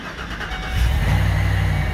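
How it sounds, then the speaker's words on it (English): A supercharged work van's engine cranks and catches, settling into a steady, loud low idle after a brief start, with no talking. "All right, I'm moving the van to the front."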